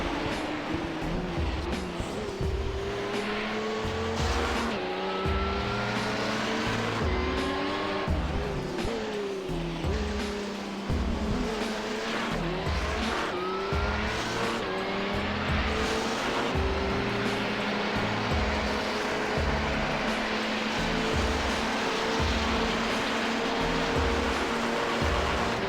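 LMP1 prototype race cars from a 24-hour Le Mans racing game roar past one after another, their engine notes sweeping up and down over a constant loud wash of track noise, with no pauses.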